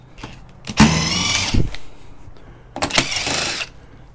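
A powered screwdriver or drill works on the casing of a Sony Betacam BVW 75P video recorder being scrapped. It gives two close, loud whirring bursts, each under a second, with a quiet pause between them.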